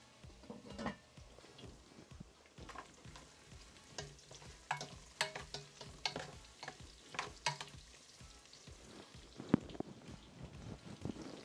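Garlic sautés in a pot for ginger sesame chicken noodle soup. A quiet, crackly sizzle is punctuated by soft scraping and tapping as the garlic is stirred, with no voices.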